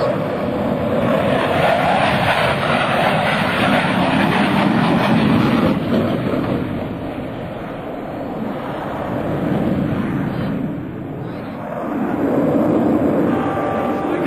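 An F/A-18C Hornet jet roars past at an airshow, its loud broadband rush swelling, dipping, then rising again amid wind-like noise.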